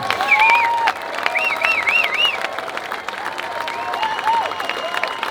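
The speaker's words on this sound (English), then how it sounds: "So a special round of applause" Steady applause from a large crowd at the 2023 NYC Seal Swim race fills the whole stretch, with a voice calling out over the clapping.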